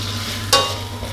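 Isan sausage stir-fried in a pan without oil gives a soft, continuous sizzle, with one sharp scrape of stirring in the middle.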